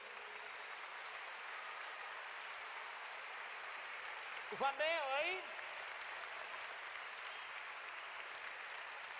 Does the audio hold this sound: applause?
yes